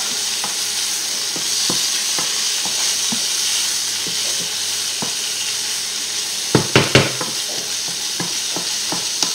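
Salmon risotto cooks in a pan with a loud, continuous sizzle while a utensil stirs, adding soft scrapes and a brief cluster of sharper clinks near the end.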